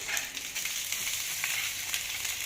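Onions go into a frying pan already holding garlic, and the pan answers with a soft, steady sizzle and crackle, faint and close, with small spits and pops scattered throughout and no talking.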